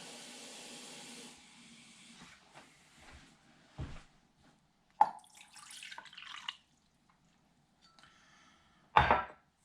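About a cup of water poured into a mixing bowl for a venison jerky marinade: a short, close splashing pour at the start, followed by scattered clinks and handling noises in a quiet kitchen.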